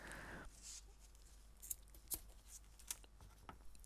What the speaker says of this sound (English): again, I'll cut a piece.